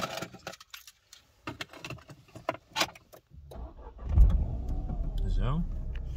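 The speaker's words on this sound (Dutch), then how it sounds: "De sleutel erin." Keys jangle and click as a key goes into the ignition of a Renault Clio, a string of sharp metallic taps, then a rising hum and whir as the car comes to life, with a voice speaking briefly.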